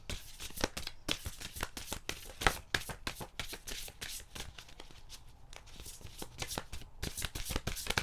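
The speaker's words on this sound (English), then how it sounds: "These are huge cards that I cannot shuffle." Big cards being shuffled nearby in a steady stream of quick papery slaps and riffles, brief pauses between bursts, no speech.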